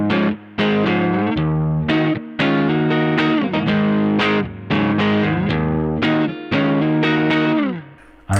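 Telecaster-style partscaster electric guitar on its P90 neck pickup, played clean without the distortion pedal: loud strummed chords and ringing notes in a loose rhythm, each struck sharply and left to decay, no voices.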